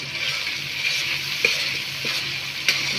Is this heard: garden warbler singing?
no